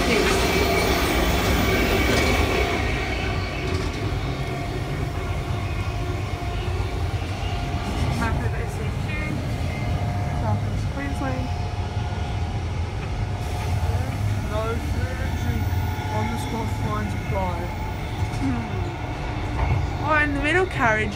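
Interior of an electric multiple unit train in motion, a steady low rumble and rolling hum with faint squeals and rattles throughout, heard from inside the carriage.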